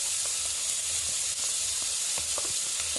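Onions, sweet pepper and celery fry in a pot of Bahamian black beans and rice, giving a steady, close sizzle and hiss with small pops and stirring scrapes, no voices.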